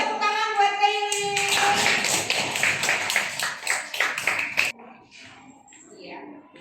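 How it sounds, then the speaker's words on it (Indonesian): A classroom claps for a student named Kaili, a burst of rapid hand claps lasting a few seconds after a brief voice, then fading into quieter room sound. "tepuk tangan buat Kaili"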